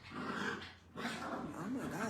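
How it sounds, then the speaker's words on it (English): Puppies bark and growl in short overlapping bursts, close and fairly loud, with a brief lull partway through before they start up again. "Oh my God, these puppies are so loud."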